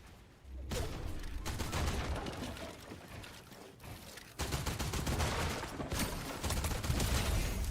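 Gunfire in the video game Fortnite: dense, continuous rapid-fire bursts and clatter filling the whole stretch, loud and busy, with a brief dip in the middle.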